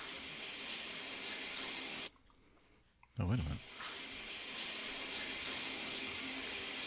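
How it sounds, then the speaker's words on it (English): Water from a running shower in a bathroom hisses steadily, cuts off for about a second while someone speaks briefly, then resumes as a continuous spray. "Nick, stop taking the shower."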